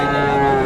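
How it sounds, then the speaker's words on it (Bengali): Native cattle at a village livestock market, a single loud close moo held as a steady drawn-out tone for under a second. "এই যে এদিকে আরো কিছু দেশি গরু আছে, এই যে দেখেন"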